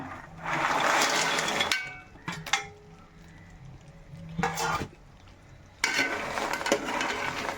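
Banana pieces being stirred into melted jaggery for Onam sharkara varatti, with bursts of scraping and stirring in the pan under a soft sizzle, separated by short pauses and no talking.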